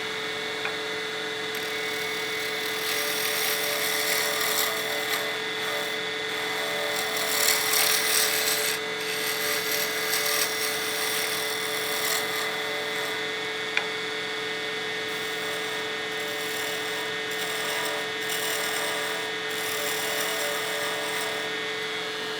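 A wood lathe spins a burl pen blank for a premium pen kit, a steady motor whine with hum and tonal ringing, faint scraping of cutting beneath, close and continuous without speech.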